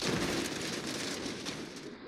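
Dense, continuous rapid blasts from four cannons firing at cars in BeamNG.drive, loud and sustained with no clear pauses between shots.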